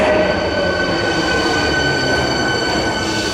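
An Osaka Metro Sakaisuji Line train pulls into Ebisucho Station, a loud steady roar of wheels and motors on rail with faint high squeal, continuous throughout without speech.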